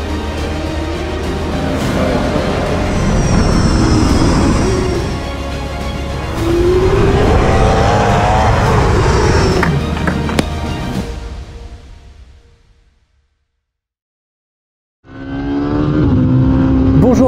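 Race cars run on the Nogaro circuit during a practice session, engines revving and shifting up as they pass close and loud, fading briefly to silence before another burst of engine noise returns.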